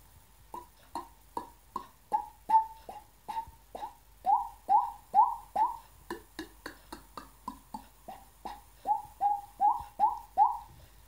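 A voice imitates dripping water drops, making soft K-like clicks shaped by a hollowed throat: a steady run of about two dozen hollow, pitched plinks, close and fairly quiet, with no talk.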